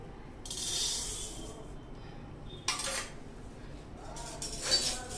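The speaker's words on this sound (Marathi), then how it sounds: "धणे छान भाजून घ्यायचे आहेत।" Coriander seeds are dry-roasted in a pan without any ghee, giving a few separate bursts of dry, hissing rattle and scraping. The noise sits close and fairly quiet against near silence.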